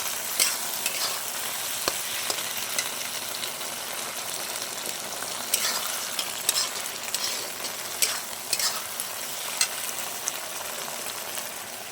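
Chicken with soy sauce sizzles steadily in a frying pan while it is stirred, a continuous loud hiss with occasional spatula scrapes and clinks close up, no voices.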